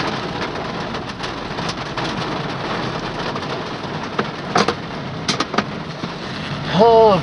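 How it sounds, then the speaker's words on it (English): Heavy summer rain falls steadily on a rural property, a loud continuous wash with a few sharp bursts and louder surges toward the end, while a person talks faintly underneath. "they said we were going to get some heavy rains this week"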